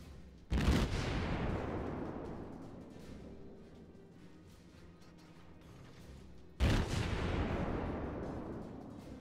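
Naval guns firing from the Tier 6 cruiser Nürnberg in World of Warships. Two heavy, close salvos land about six seconds apart, each a sharp thunderous crack that fades into a long rumbling decay.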